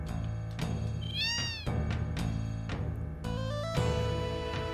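A cat meows repeatedly in the video game Final Fantasy VII, with several clear, loud, close meows spaced about a second apart over steady game music.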